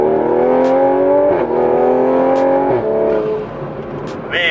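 A Toyota A90 Supra with a B58 engine and reflashed ECU tune pulls hard in third gear, the engine note climbing steadily in pitch with brief dips at shifts, loud and close from inside the car.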